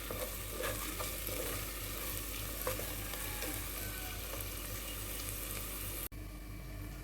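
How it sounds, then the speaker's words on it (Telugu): Tomatoes fry in a pan for a palm fruit (ice apple) curry, giving a steady, even sizzle and bubbling hiss with faint stirring scrapes, quiet and continuous before an abrupt cut near the end. "ఇలా ఎర్రగా వేగాక టమాటాలు వేసేయండి. టమాటాలు చక్కగా మగ్గనివ్వండి"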